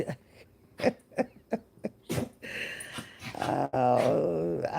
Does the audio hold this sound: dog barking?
yes